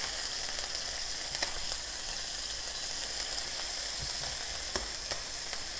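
A small piece of onion dropped into hot oil for a stir-fry sizzles steadily and crisply up close, a continuous bright hiss with a few faint clicks and no voices.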